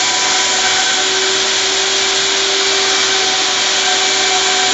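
A three-motor vacuum cleaner on a mobile steam cleaning machine for car seats and upholstery runs loud and steady for the whole stretch, a constant whining roar with humming motor tones and no pauses.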